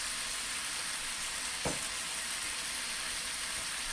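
Cabbage, chicken and tteokbokki stir-frying in a hot pan give a steady, loud, close sizzle, broken once by a brief knock of a utensil.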